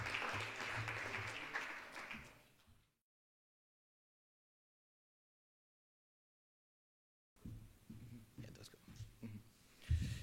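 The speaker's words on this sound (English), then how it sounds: "we just want to give them an extra round of applause for the launch" Audience applause at a film event, marking the launch of a project: steady, moderately loud clapping that fades out, then after a long silent gap a murmuring crowd with scattered claps and low voices returns.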